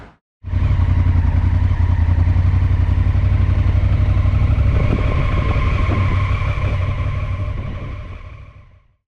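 A motorcycle engine runs steadily and loudly up close for several seconds, a throaty rumble that eases off slightly near the end.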